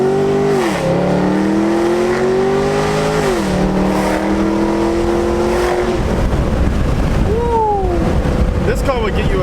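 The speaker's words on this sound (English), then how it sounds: "LS3 motor. How can you not have fun with this? Like, I'm gonna just rev it for y'all a little bit." A sports car's LS3 V8 revs repeatedly and loudly up close, rising and dropping in pitch through several blips and a downshift, with someone talking over the engine.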